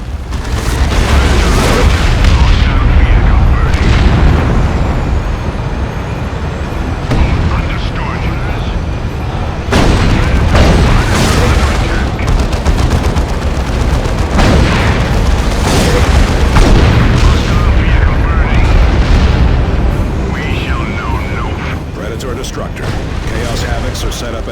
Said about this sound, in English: Use your las cannon to cut them apart.